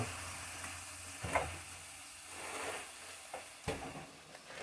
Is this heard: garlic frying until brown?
yes